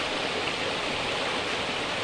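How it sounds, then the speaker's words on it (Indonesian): Flowing water from a waterfall makes a dense, even rushing hiss, constant and close, with no breaks or other sounds. "suara air mengalir, air terjun, deburan ombak"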